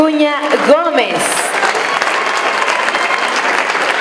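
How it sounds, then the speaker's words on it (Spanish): Loud, sustained applause from an audience at an event against violence, following a brief amplified voice at the start, then a thick steady clapping that carries on to the end. "Aplausos para Rocío Acuña Gómez."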